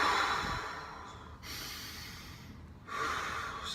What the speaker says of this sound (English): so some really deep diaphragmatic breaths